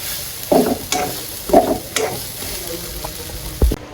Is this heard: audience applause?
no